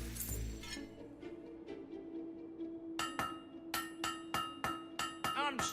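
A blacksmith hammers at a forge in the video game Fable 3, sharp metallic strikes ringing out in a steady rhythm over a faint background hum, with a clanging burst at the start.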